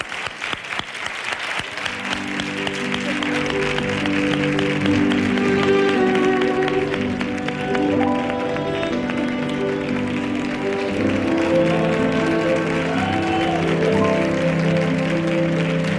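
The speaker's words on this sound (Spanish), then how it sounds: "vamos a darle un aplauso a este cuerpo de baile" A studio audience applauds a dance troupe at a televised gala, steady dense clapping that swells and holds loud throughout, with some music or voices faintly mixed underneath.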